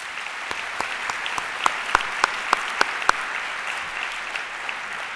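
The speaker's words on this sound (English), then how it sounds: "So I would like to recognize you all with a round of applause." Audience applause at an AVID Summer Institute gathering in Dallas, a steady wash of many hands clapping with a few sharper, regularly spaced claps standing out, moderately loud and continuous throughout.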